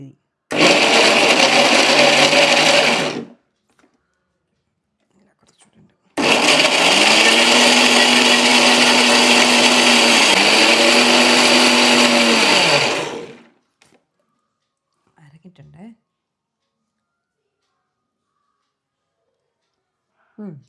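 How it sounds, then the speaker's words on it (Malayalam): A mixer grinder jar blends banana cake batter with sugar in two loud bursts, a roaring whine of about three seconds, a pause, then a longer run of about seven seconds whose pitch dips and recovers under load, with quiet gaps between. "മിക്സിയുടെ ജാറിലായതുകൊണ്ട് പെട്ടെന്ന് അരയുമെന്ന്"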